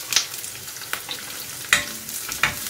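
Minced garlic and onion frying in a pan for red sauce cheese pasta, a bright sizzle punctuated by three or four crisp spatula scrapes, close and moderately loud with no talking.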